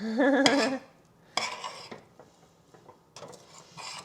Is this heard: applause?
no